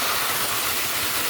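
A strong current of water rushes in a steady, loud, broadband roar close by, with no break and no voices over it.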